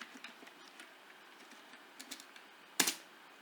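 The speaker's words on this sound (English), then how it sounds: "You can explicitly check that by typing this command java-version." Someone types a command on a computer keyboard in a quiet room, producing a quick run of soft, close key clicks that ends in one louder sharp tap.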